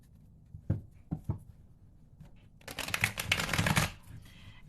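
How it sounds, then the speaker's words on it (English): A few soft taps of tarot cards on a table, then a close burst of riffling as the deck is shuffled, with no talking. "I'm going to shuffle it 3 times."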